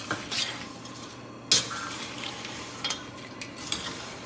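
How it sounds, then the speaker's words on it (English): A spoon stirs pepper jelly mixture of sugar and apple cider vinegar in a pot, giving sporadic scrapes and light clinks against the metal over a soft background hiss, with one sharper knock partway through. "I'm gonna stir this all in."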